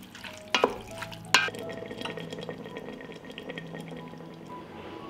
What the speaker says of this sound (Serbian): i nastavljam da pržim